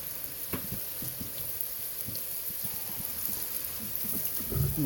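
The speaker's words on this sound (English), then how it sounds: "And the onions are going in." Onions frying in a pan for beer cheese soup, a soft steady sizzle with scattered light pops and clicks, fairly faint and close, swelling slightly at the end.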